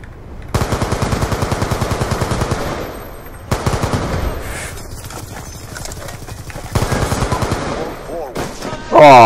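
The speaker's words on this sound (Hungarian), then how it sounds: "lehet nem volt jó ötlet elkezdeni lövöldözni az ellenfél spanjának a közepén" Rapid automatic gunfire in the video game Call of Duty Black Ops II, loud sustained bursts of fast shots broken by short gaps and ending in a sharp final blast.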